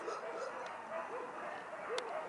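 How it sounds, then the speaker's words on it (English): Several dogs howl and whimper in the distance, short rising and falling wails that recur throughout over a steady background hiss. "The dogs are howling."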